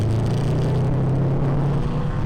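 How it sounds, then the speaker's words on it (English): Engine of a 2016 Subaru WRX STi on track, a deep, steady low rumble with a droning hum, loud and continuous across the whole moment with no voices. "If you can hear, the Subi rumble is still there."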